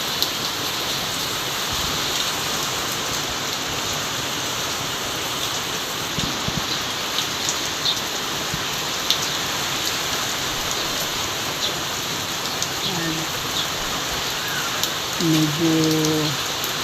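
Steady rain falls outdoors in a windy spell, a dense continuous patter with a few faint, brief voices near the end.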